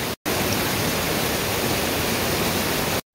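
Long Creek Falls on the Appalachian Trail in Georgia roars as a steady, loud, close broadband rush of falling water, continuous for about three seconds after a brief gap at the start, with no voices.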